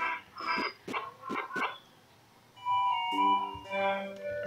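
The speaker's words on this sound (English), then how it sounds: "you can hear a dog in the background" A dog barks several times in the background, a quick run of sharp barks early on followed by a lower whimpering or yipping stretch, heard indoors at moderate distance.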